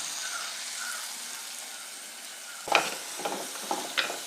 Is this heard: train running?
no